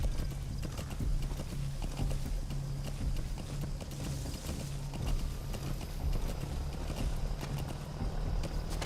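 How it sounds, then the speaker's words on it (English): A horse plods along in Metal Gear Solid V: The Phantom Pain, its hooves clip-clopping in a steady walking rhythm over a low droning game soundscape. "Use your horse."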